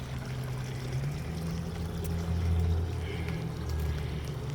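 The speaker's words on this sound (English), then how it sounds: "We added this new fountain, and we actually have two more fountains coming." A garden water fountain in an Asian-style backyard garden sends out a steady splashing trickle over a low constant hum, close and continuous at moderate volume.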